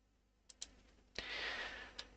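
Computer mouse clicks while saving a chatbot message: two quick faint clicks, a pause, then a sharp click followed by a soft sustained rustle and one more click, quiet and close with no talking.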